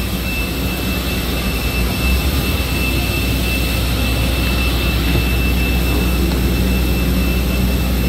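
A jet airliner's engines roar loud and steady at close range at Rafael Hernández Airport in Aguadilla, a constant broad rumbling whine with a thin high tone that holds unchanged throughout, with no voices.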